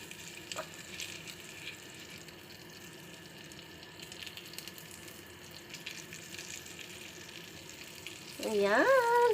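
Dried fish (tuyo) frying in a pan gives a steady, faint sizzle for most of the stretch, swelling louder and busier near the end as the oil crackles up; no one talks.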